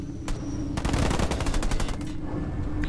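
Rapid machine gun fire in a Halo Wars 2 multiplayer battle, one early shot and then a long, steady stream of rounds at close range over a constant background hum.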